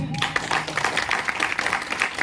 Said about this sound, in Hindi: उनके लिए दिल से तालियां चाहता हूं, मिस्टर सुनील जैन